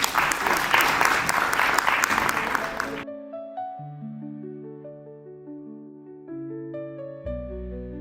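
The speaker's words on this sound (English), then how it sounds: "Let's have a huge round of applause." A conference audience applauds loudly for about three seconds, dense clapping that cuts off abruptly and gives way to a slow electronic melody of sustained tones.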